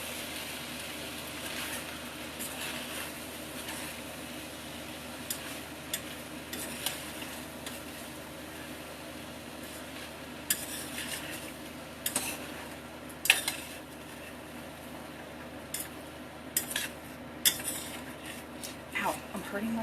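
Food stirred in a pan for a long stretch, a utensil clinking and scraping against the metal in irregular taps over a low, even sizzle, close and without talking.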